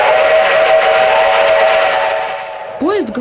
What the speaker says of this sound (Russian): Паровоз, словно новогодняя игрушка, горит и переливается.